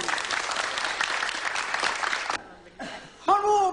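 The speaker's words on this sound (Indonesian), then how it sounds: "tepuk tangan" Audience applause rises as a steady wash of clapping for over two seconds, then breaks off abruptly into quiet, followed by a brief spoken voice.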